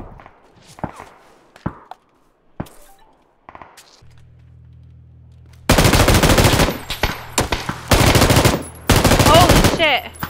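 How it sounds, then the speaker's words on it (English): Dense video-game gunfire from many shooters, starting sparse with scattered single shots, then erupting into loud sustained automatic bursts with brief gaps, over a low droning hum. "Getting shot at by a lot of people."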